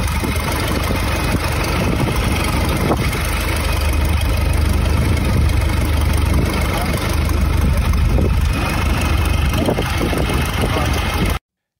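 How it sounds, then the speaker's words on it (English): A light aircraft engine being built by students in the Tehachapi Build-A-Plane program runs steadily at a loud, even drone for about eleven seconds, then cuts off abruptly. "This is the actual sound from the engine of the plane being built by the Tehachapi Build-A-Plane program."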